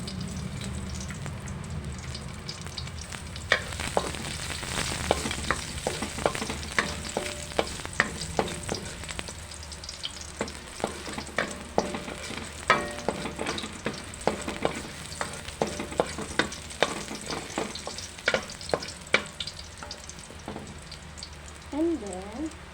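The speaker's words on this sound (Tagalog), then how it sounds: "gisan muna natin ang bawang" Garlic sautéing in coconut oil in a pan, a lively close sizzle with frequent stirring clicks and scrapes, sustained throughout with a voice briefly near the end.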